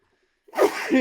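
A single sneeze bursts out suddenly after near silence, close to the microphone and fairly loud, with a voiced tail.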